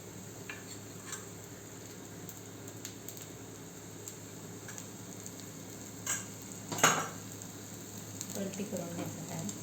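Appe sizzling in oil in an appe pan, a faint continuous crackle with a few louder clatters of a spoon against the pan, close by.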